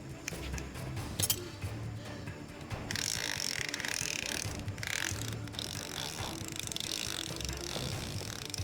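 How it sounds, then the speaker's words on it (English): A fishing reel left on free spool with its clicker engaged, ratcheting in a fast steady run of small mechanical clicks, close and continuous over outdoor background noise. "So I'm going to leave the clicker on. Free spool."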